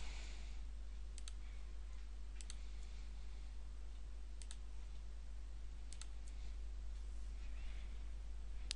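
Sharp computer mouse clicks while working in Adobe InDesign, sounding in small clusters of two or three quick taps spaced a second or two apart over a steady low hum.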